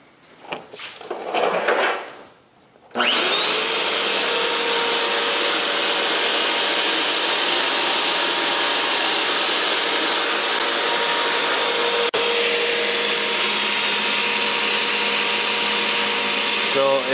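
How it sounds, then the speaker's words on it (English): A vacuum cleaner running off a Refuge 100 Pro portable solar power generator starts after a brief shuffle of handling noise, then roars with a steady, loud whine and rushing airflow that continues unbroken to the end. "Let's turn on the vacuum and see what kind of power it pulls."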